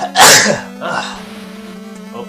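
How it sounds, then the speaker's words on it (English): A single loud, sharp sneeze bursts out close by, followed by a short voiced exclamation and a steady low hum underneath. "that was a sneeze and a half"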